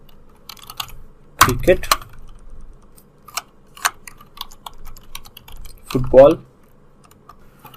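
Keys on a computer keyboard are tapped in scattered light clicks while HTML form entries are typed, with someone talking over them in two louder bursts.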